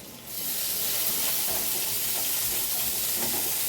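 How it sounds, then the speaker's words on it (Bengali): Onions hit hot oil already frying cardamom and garam masala for a Bengali rita fish curry, setting off a sudden loud, close sizzle that holds as a dense steady hiss with faint stirring underneath. "একটু হালকা লাল করে ভেজে নিয়ে মাঝখানে ফাঁকা করে আমি দিয়ে দিচ্ছি এলাচ আর গরম মশলা গুঁড়োটা। এবার দেব পেঁয়াজ।"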